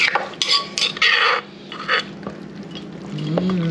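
Food poured into a bowl in a Lao home kitchen, with quick clinks and clatters of dishes and utensils, close and bright, then settling into a quieter rustle.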